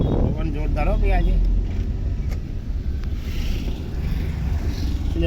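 Strong wind batters the microphone on a motorbike ride to buy vegetables, a loud continuous low roar with gusting rumble that never lets up, and a voice is heard briefly near the start.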